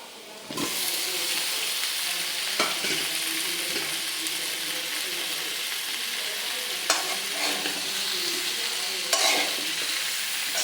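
Boiled yam pieces are stirred slowly in a frying pan, with a constant sizzle of frying beneath repeated scraping and clattering strokes of the spoon against the pan.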